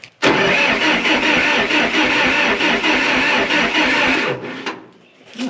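An old bulldozer's starter cranks loudly on a cold start, whirring continuously for about four seconds with a rhythmic chug before cutting off into quiet, and no talking is heard.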